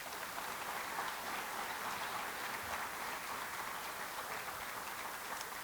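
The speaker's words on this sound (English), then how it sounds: "Let's give all these students a round of applause." Faint, distant audience applause at a cooperative annual meeting for scholarship students, a soft continuous wash of clapping with no talk.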